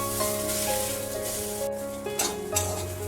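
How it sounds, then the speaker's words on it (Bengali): A spatula stirs khar kol leaves and stalks as they fry dry in a pan, a continuous close sizzle with intermittent scraping strokes and clinks against the metal. "আমি কিন্তু এই খুন্তি দিয়ে মাঝে মাঝে একটু নেড়ে দিচ্ছি নাহলে আবার নিচ থেকে লেগে যাবে"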